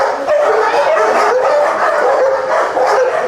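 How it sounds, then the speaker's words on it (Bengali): Several dogs, including German Shepherds and Pakistani Bully dogs, bark and yelp continuously at a dog farm in Bangladesh, loud and close with overlapping voices throughout. "ভাই কুকুর বাইর করছে তো এই জন্য শব্দ হইতেছে"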